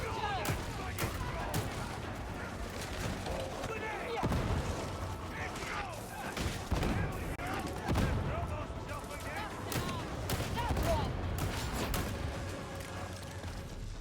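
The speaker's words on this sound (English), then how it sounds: "I am suspicious of this guy's laser shots" Laser weapons fire in a Warhammer battle game, with rapid crackling shots and booming impacts layered densely over a constant rumbling din of combat throughout, with no pauses.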